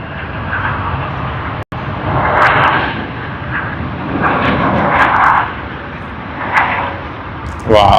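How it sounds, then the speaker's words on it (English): A fixed-wing airliner taking off at Sydney Airport, heard from a distance as a sustained, loud engine roar that swells and fades over several seconds, with people talking over it. "Wow, nice takeoff from the back."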